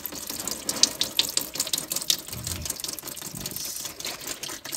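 Engine oil draining out of a Subaru STI during an oil change, a steady close splashing, pouring stream that runs continuously without pause and with no voices.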